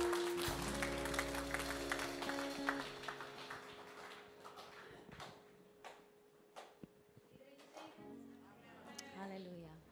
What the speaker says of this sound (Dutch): Geef applaus voor Koning Jezus.